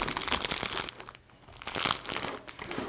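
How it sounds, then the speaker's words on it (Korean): Clear plastic sheet is crumpled and pushed inside a flower basket around floral foam, making close, dense crinkling and rustling with a brief quieter pause midway. "남아있는 비닐은 안쪽으로 밀어 넣을게요."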